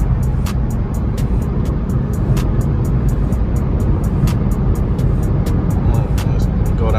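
A car accelerating on the road with an aftermarket cold air intake fitted: a steady, dense, loud engine and road roar runs throughout, broken by faint regular ticks.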